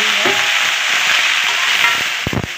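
Spring onion greens frying in a pan, a steady broadband sizzle that holds throughout, with a couple of sharp clattering knocks near the end as the greens are stirred.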